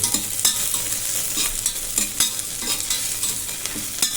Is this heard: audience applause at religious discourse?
no